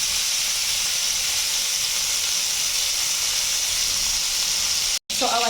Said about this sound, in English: I'm just going to turn this over so that it fries even on the upper side. So there's going to be some sizzle